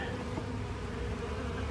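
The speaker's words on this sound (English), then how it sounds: "A little bit of activity from the Bee Avenue hive." Honey bees buzzing around a backyard beehive, a soft continuous hum with a steady low drone, faint and even throughout.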